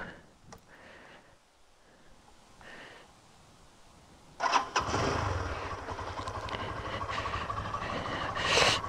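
A Lifan KPR200 motorcycle engine cranks with a few faint clicks, then catches abruptly and settles into a loud, steady idle that stays close and continuous to the end.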